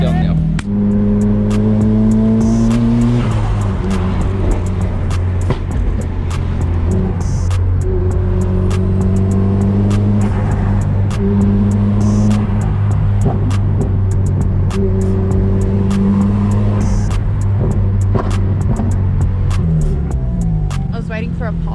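Nissan S15 driving on the road, its engine droning loud and steady from inside the cabin, the pitch shifting through gear changes and revs, with occasional clicks over the top.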